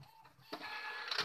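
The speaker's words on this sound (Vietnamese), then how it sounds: "Đó, đây là máy in. Chuyên gia về in ấn thiệp cưới các loại." A photo and wedding-card printer starts up with a soft click, then runs with a continuous whirring feed noise, moderately close and fairly quiet.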